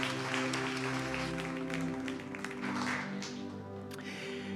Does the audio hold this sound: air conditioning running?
no